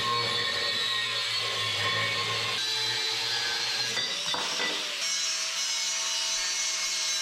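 A piece of rusty metal being cut in half before welding, a steady, loud, rasping cut that runs continuously and shifts in pitch partway through.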